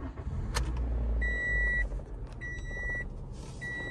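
A 2017 Toyota Corolla starting up: a steady electronic welcome chime sounds three times in clear, evenly spaced tones over a low engine rumble, with a short click just before.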